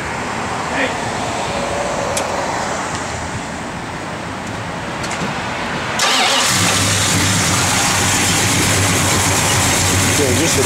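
A 1969 Dodge Dart Swinger V8 with a lumpy performance cam cranks, fires and settles into a loud, rough idle recorded up close, with a voice talking over the start.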